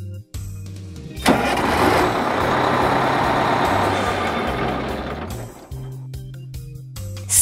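A large bus engine starts up with a sharp burst and settles into a loud, steady rumbling idle for several seconds before the noise drops away.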